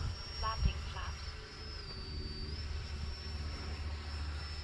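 An X-Fly Sirius 80mm electric ducted-fan RC jet makes a slow pass with its flaps set, giving a steady, fairly faint high whine that dips briefly in pitch midway, over a low rumble of wind and outdoor background.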